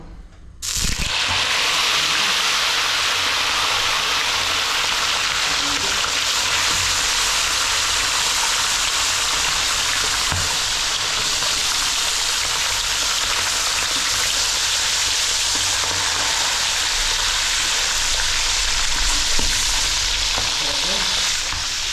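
Food fries in hot cooking oil, a loud, dense, continuous sizzle close by that holds steady throughout with faint stirring scrapes underneath.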